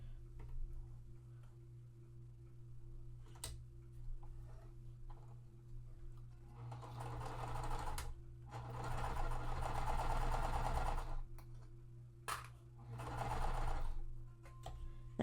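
A sewing machine stitching a long quilt piece runs in several bursts: a short run, a longer steady stretch, then another brief run, over a constant low electrical hum.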